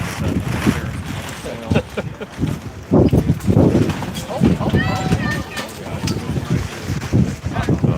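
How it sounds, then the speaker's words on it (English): Gusty wind buffets the microphone in low rumbling bursts while a person talks over it outdoors at a vintage toy show. "It is surprisingly windy out here."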